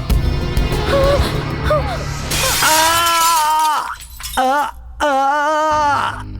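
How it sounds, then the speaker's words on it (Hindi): Glass shatters with a sharp crash in a Hindi dubbed film scene, followed by loud groaning and wailing vocal cries in several bursts, close and dramatic. "ये शीशा मेरे सर पर गिरा और चकनाचूर हो गया"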